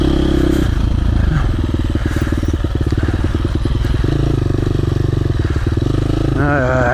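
A KTM 350 dirt bike ridden through the woods revs and pulses loudly up close, its engine note rising and falling with clattering and scraping over rough trail, while a rider's voice occasionally comes through.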